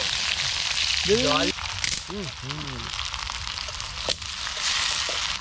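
Onions frying in hot oil in a wok (kadai), a steady soft sizzle throughout, with a few brief sung or spoken vocal phrases over it.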